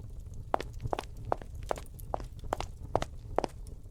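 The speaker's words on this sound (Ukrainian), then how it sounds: "Каблуки знову застукали." High heels click along a park path in a steady walking rhythm, about eight sharp, moderately close footsteps over a low background rumble, with no talk.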